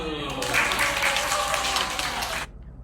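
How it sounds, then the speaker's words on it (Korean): A small group claps during a body-alignment lunge session, a brief burst of lively applause that starts at once and cuts off after about two seconds, close and fairly loud. "자, 박수."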